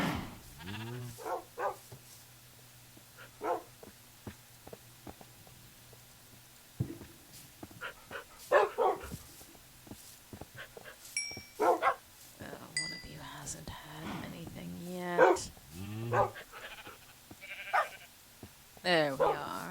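Dogs in the Minecraft video game bark in short repeated yips scattered across the clip, mixed with sheep-like bleats and other game sounds, while a player talks over them throughout.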